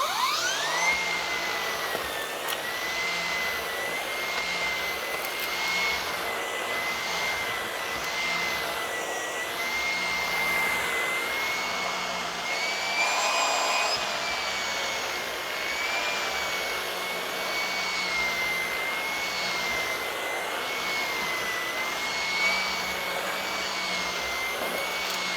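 Numatic vacuum cleaner running nearby, a loud continuous motor whine with a high steady tone that briefly rises in pitch partway through, no voices.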